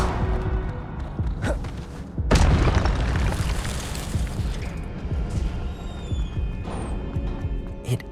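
A fire spell blast is cast in the video game Hogwarts Legacy, bursting out as a loud, sudden boom with a crackling, fiery tail that fades over several seconds amid ambient game sound. No one speaks.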